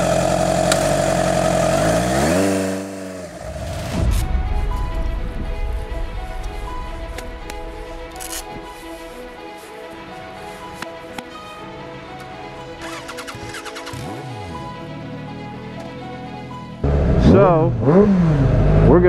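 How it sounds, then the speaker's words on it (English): A Kawasaki Ninja super sport bike engine revving after repair work, loud throttle blips rising and falling near the mic, with a steady idle running between them. "The bike is still revving out fine."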